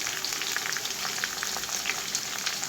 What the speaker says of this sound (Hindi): अब इसी में हम इसको गोल्डन ब्राउन करेंगे लहसुन अदरक को।